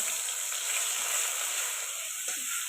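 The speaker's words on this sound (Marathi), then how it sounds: "तेल मस्त गरम झालेले तेलामध्ये वाटण टाकून घेते मिरची लसूण आणि कोथिंबीर" Chili, garlic and coriander paste sizzles steadily in hot oil on a village wood-fired stove, a continuous close frying hiss with no voices.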